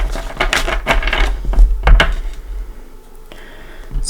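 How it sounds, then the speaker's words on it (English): A deck of tarot cards being shuffled by hand: several quick papery riffling bursts in the first two seconds, then a quieter pause and a faint final flutter, close and clear with no talking. "So let's go ahead and give it a couple shuffles."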